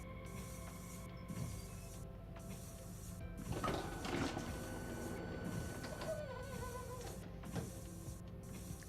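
A Frankfurt S-Bahn train door operates in the Train Sim World 5 video game, with a mechanical whir, hiss and sliding movement over steady electrical tones and beeps, fairly quiet and with no talking.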